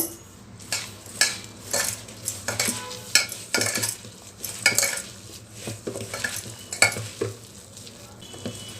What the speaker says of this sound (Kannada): ಈಗ ಇದನ್ನೆಲ್ಲ ಸ್ವಲ್ಪ ಸ್ವಲ್ಪ ನೀರು ಹಾಕಿ ಕಲಿಸ್ಕೊಳ್ಬೇಕು